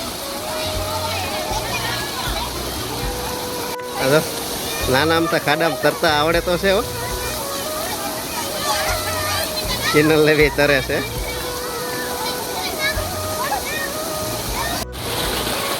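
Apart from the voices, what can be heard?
waterfall pouring into a pool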